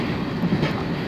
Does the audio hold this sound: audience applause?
no